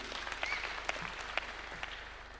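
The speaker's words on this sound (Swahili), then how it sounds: "Tumpigie makofi mazuri." Applause from an audience at a Kenyan Akorino church gathering at State House, a steady wash of many hands clapping with a few sharper claps standing out, moderately distant and fairly quiet.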